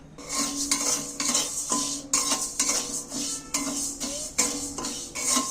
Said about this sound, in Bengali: শুকনো খোলায় আমি প্রথমে ডাল দিয়ে দিচ্ছি কড়ার মধ্যে